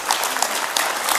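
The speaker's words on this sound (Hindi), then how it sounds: "जोरदार ताली हमारे मोहन के लिए" A group bursts into loud, steady clapping for Mohan at an International Yoga Day session, a dense, close round of applause sustained throughout.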